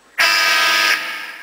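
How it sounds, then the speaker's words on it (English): Two out-of-tune electric guitar strings struck together ring out in a sustained, slightly clashing chord, then are cut short and fade quickly, with no talking. "if you haven't tuned your guitar it will sound like this probably"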